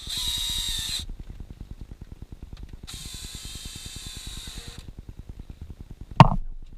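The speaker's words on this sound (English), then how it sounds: "Use a drill or a screwdriver to tighten the screws." A drill drives screws into a BMW E90-series cup holder with two bursts of high whine over a rapid, even ratcheting clatter. A sharp clunk lands near the end.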